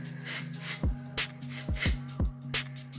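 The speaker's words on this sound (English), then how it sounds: "I'm gonna go in with my Bumble Texture Spray just because I haven't used this guy in a while. So I'm just gonna shake up the bottle" A Bumble texture spray bottle is shaken and then spritzed onto hair in several quick hissing bursts, close and fairly quiet, over a low steady hum.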